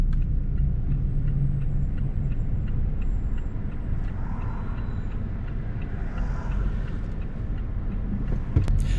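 A steady low road rumble inside a car during a mock driving test at Gregory Hills, Macarthur, with a couple of oncoming cars swelling faintly past midway through, nobody talking.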